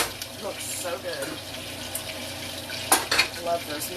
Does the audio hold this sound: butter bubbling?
yes